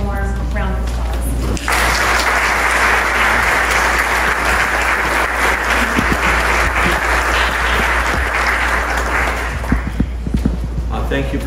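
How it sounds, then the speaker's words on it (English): A crowd gives warm applause at a basilica museum event, starting abruptly after a voice and continuing loud and dense for several seconds before tapering, with a low steady hum beneath. "give him a warm round of applause"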